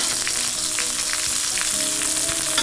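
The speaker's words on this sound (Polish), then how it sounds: "Takim pieniącym się masłem już brązowym polewam steka." A steak sizzles loudly and steadily in a pan as foaming brown butter is spooned over it, with close, dense crackling and occasional spattering pops throughout and no voices.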